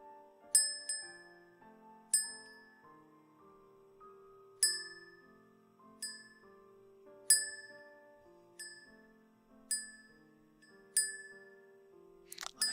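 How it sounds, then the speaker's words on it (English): A bell is struck repeatedly at uneven intervals, each bright ring decaying slowly into a sustained shimmering tone; about ten strikes in a quiet room, recorded in binaural 3Dio ASMR. "Every time I hear the bell, my mind tells me it's dinner time."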